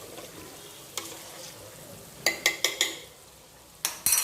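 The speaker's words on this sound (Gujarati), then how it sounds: "અહીંયા જો હવે ઘી બની જ જવાય એવું છે." Homemade ghee simmering in a pan with a soft continuous bubbling sizzle, punctuated by a handful of sharp metallic scrapes and taps from stirring in a quick cluster and again near the end.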